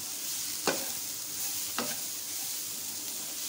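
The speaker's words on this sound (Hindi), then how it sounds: "इनको हमने थोड़ी देर फ्राई करने, फ्राई करने के बाद फिर हमने इनको कुछ देर के लिए ठंडा होने के लिए रखना है।" Potato and chicken cutlets frying in a pan, a soft steady sizzle with two brief stir or scrape bursts near the start and middle.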